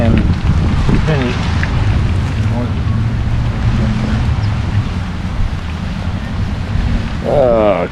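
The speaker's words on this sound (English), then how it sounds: "Oh, crazy rain." Heavy rain pours down steadily in a park, a dense wash of noise mixed with wind buffeting the microphone, and a voice briefly breaks in near the end.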